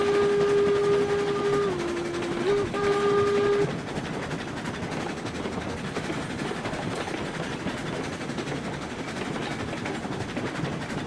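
The locomotive Montezuma, set up to haul logs in the video game RailRoads Online, sounds a steady whistle for a few seconds and then runs on with a continuous rumbling, clattering roll and no talking.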